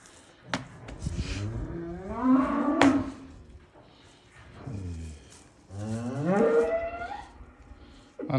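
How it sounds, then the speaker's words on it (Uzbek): A milk cow on a farm moos twice, each call long and loud at close range, separated by a quiet pause with faint shorter lowing between. "Ana shu sigirimiz ana."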